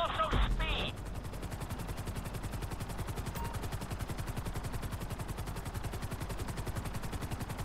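A helicopter flies in GTA V, its rotor chopping in a steady, rapid, loud beat that runs through the whole stretch, with a brief sharper burst at the start.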